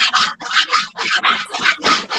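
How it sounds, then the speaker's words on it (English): Sanding during a live online show, a loud close scraping rasp in steady rhythmic back-and-forth strokes, about eight strokes with no talk. "You're sanding something on a live show."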